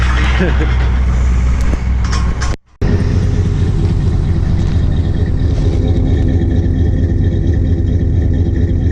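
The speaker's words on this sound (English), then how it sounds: "That cold idle." A snowmobile engine idles cold, a steady, loud, rough low drone that runs throughout, with a brief dropout near the three-second mark.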